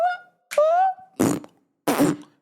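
Several loud fart sounds, two of them long and raspy, in quick succession, close and dry, with separate brief tonal squeaks before them.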